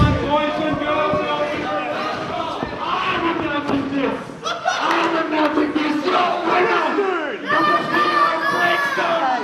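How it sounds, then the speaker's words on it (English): Loud wrestling crowd at a PWAQ Rise of the Warriors 3 event chanting in disapproval, a rowdy mass of shouting voices rising and falling in rhythmic bursts. "The crowd has chanted bullshit. The crowd is not happy."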